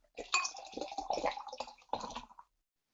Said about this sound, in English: I'm going to excite the yeast, give it a good shake, and I'm going to give it a Yorkshire pour.